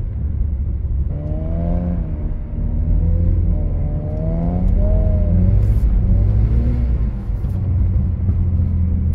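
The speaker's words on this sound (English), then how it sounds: "Yeah, I'm backfiring currently." BMW E46 rear-wheel-drive car driven in snow, engine droning loud and close with rising and falling revs and a few sharp crackling pops near the end.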